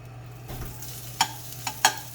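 Brussels sprout hash goes into an oiled pan with a soft, low sizzle, broken by a few sharp clicks of a utensil over a steady background hum.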